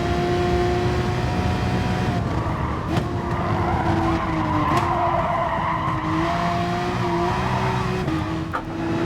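Rear tyres locking under braking in Gran Turismo Sport during a championship race, a sustained squeal over the race car's engine note, which sags and rises as the car slows and the driver gears down.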